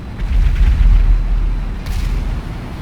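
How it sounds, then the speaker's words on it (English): Rapid volley of missiles fired from a CFA-44 Nosferatu jet in a GTA V mod, a loud sustained low-end rumbling roar with layered booms that swells and then tapers, with no talk. "So you can only fire a volley of 12 missiles at one target."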